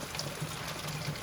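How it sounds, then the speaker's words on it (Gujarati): Heavy rain pours down steadily in Valsad, a dense, even hiss of falling water close by with no breaks and no voices. "કેટલો વરસાદ આવે ભાઈ"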